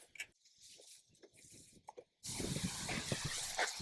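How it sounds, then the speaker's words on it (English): Steel backpack sprayer misting weeds in a garden, a sudden loud sustained hiss bursting in after a stretch of quieter clicks and pumping noises. "these steel backpack sprayers are really nice backpack sprayers"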